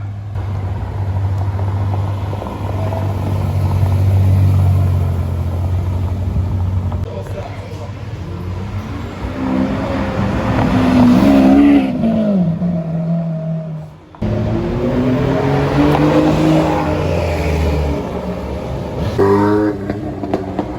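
A powerful supercar engine revs up and down with rising and falling whines, loud and close at times, against traffic rumble and voices talking on a street in Toulouse.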